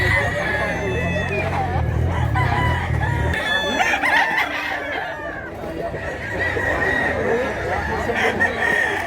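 A gamecock crows at a Cebu gamefarm, with other roosters calling and clucking through a busy, layered farmyard and a low engine-like rumble fading out early.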